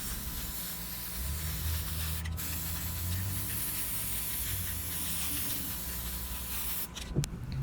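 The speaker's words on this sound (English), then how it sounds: "take your black spray and just go at it" Continuous hissing spray from a can of black spray paint, steady for several seconds before a brief break and a few short bursts near the end.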